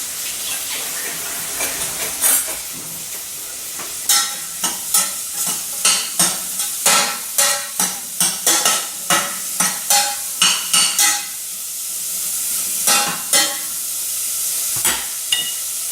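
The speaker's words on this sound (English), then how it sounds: "So you're just gonna saute that" Food sautéing in a generous amount of oil in a pan for spicy peanut noodles, a steady sizzle broken by a run of rhythmic scraping stirs, close and loud, with no talking.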